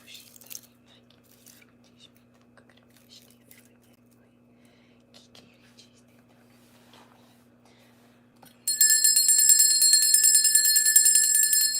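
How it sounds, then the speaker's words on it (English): A small rose-shaped bell rings suddenly after a long quiet stretch of faint rustling, its bright high shimmering tone sustained and loud for several seconds. "This is my beautiful rose bell."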